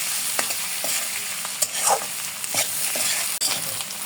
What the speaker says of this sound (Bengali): সবগুলো এখন ভালো মতো একটু সিদ্ধ করে নেব, ভাজা ভাজা করে নেব।